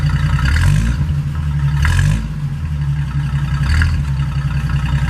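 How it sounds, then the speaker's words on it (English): A 1948 Pontiac Torpedo engine idles with a steady low burble, then surges in loud, close revs as the throttle is blipped a few times, with no one talking. "Gonna hit the throttle."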